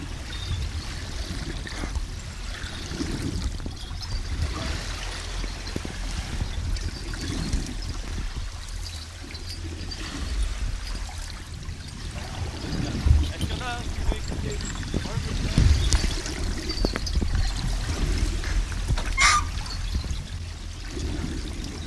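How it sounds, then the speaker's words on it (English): Heard underwater beside an Atlantic lighthouse at La Flotte, Île de Ré, waves wash in a continuous low rumble while an anchor chain gives occasional dull clanks. "So we are hearing the chain here and the waves."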